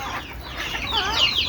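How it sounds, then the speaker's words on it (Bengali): Hens clucking and squawking as a flock of local free-range chickens is let out, a close, busy chorus of overlapping calls rising toward the end. "এই যে দেখেন মুরগির সবগুলো ছাড়া হচ্ছে।"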